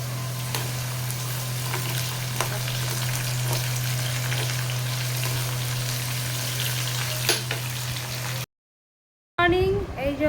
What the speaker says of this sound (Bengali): এখানে আলু ভাজা চলছে